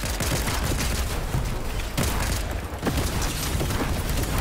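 A combat shotgun firing in Fortnite, dense loud overlapping blasts and booming impacts filling the whole stretch, close and harsh with no clear talk.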